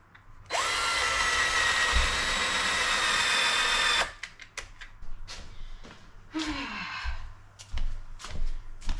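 Power drill boring pilot holes into very hard wood for screws, one sustained loud run of about three and a half seconds, followed by scattered handling clatter and a short creak.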